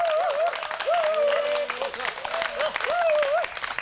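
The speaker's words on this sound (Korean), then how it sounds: "박수 쳐주세요." A group of Gicheon martial-arts trainees in Korea clap for one another after a session, brisk close applause mixed with a sustained wavering tonal sound and voices.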